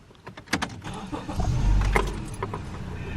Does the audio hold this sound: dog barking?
no